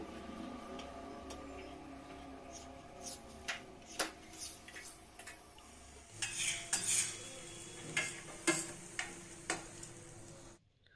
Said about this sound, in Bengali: উল্টে পাল্টে ভেজে নামিয়ে নেবেন